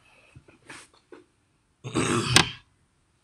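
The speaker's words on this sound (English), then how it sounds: "Yeah, yeah, I did cough." A rough, throaty cough bursts out loudly for about half a second after a few softer breathy noises.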